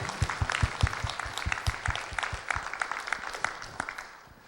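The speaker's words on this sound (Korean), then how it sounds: "우리 큰 박수로 하나님께 감사와 찬송과 영광의 박수 올려드립시다" A church congregation at Sunday worship claps together in praise to God, with a steady rhythmic beat of many hands that fades out toward the end.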